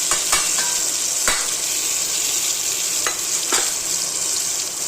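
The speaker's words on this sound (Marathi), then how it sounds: "आता हे ना चांगलं तडका द्यायचा आहे याला" Garlic and green chili sizzle in hot oil with turmeric for a tempering, a loud continuous frying crackle punctuated by a few sharp spatters and scrapes as the pan is stirred, with no speech.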